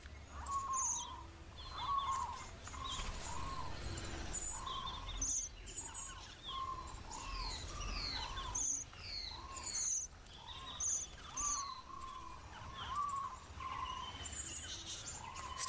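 Red-browed finch calling in the Australian wild, repeated high thin whistled notes at a steady rhythm over a soft outdoor background with insect buzz, fairly faint but clearly repeated throughout.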